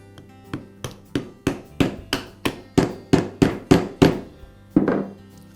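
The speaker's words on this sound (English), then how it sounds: "Now I can install the balancer shaft and bearing assembly back into the eccentric." A balancer shaft and bearing assembly is fitted into the eccentric of a Dynabrade sander under repair. About a dozen sharp, close knocks come at a steady pace and build slightly louder, then a final pause and one heavier thud.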